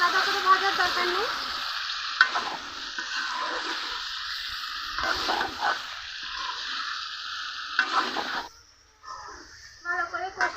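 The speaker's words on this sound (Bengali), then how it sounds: "চিকেনগুলো কিছুক্ষণ কষিয়ে দিয়েছে, এখন কেটে ধুয়ে রাখা আলু দিয়ে দিব" Chicken pieces and small cut potatoes fry and sizzle in a pan while being stirred, with a steady hiss and scraping strokes, a voice talking at times, and a quieter stretch near the end.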